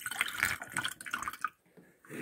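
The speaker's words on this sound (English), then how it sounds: "I'm going to pour in a little bit of this hydrogen peroxide now." Hydrogen peroxide is poured through a funnel, giving a soft, close trickle and splash. The flow stops briefly and then starts again, with no voices.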